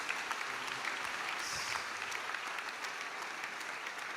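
A church congregation in Martinique breaks into sustained applause and cheering for Jesus, dense clapping filling the room evenly for several seconds with a few scattered voices rising over it.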